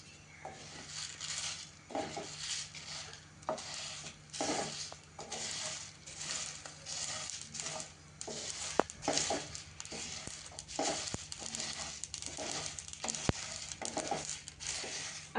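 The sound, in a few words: dry roasting cloves, black pepper and bay leaves on medium heat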